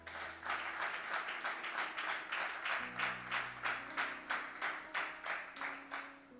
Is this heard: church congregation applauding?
yes